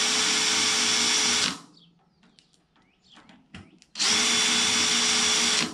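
A power drill with a number 40 bit bores holes in an RV-4 aircraft spar during a crack repair. The whine comes in two loud sustained bursts, one near the start and one near the end, with birds chirping faintly in the quiet gap between them.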